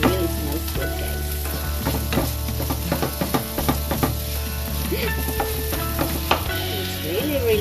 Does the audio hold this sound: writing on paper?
no